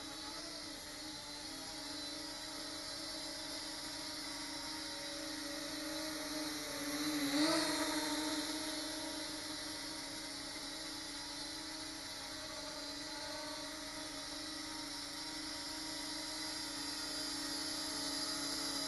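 A small consumer drone hovers indoors with a thin, steady whine of spinning propellers, faint and even, briefly swelling louder as it moves closer.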